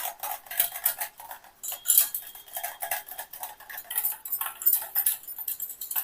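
A spoon clinks and scrapes against a bowl in quick, uneven strokes while capsicum yogurt chutney is mixed close up, with no talking.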